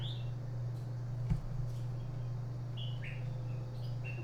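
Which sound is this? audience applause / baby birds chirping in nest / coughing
baby birds chirping in nest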